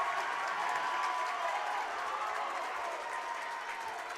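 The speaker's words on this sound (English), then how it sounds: "Their fans have something to cheer about after that slow start." Home fans at a boys' high school basketball game cheering and clapping from the near sideline, a dense, steady roar of crowd noise that stays loud throughout.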